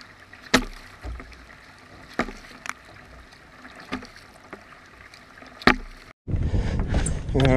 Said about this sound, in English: That was probably, what, about an 8 minute paddle out.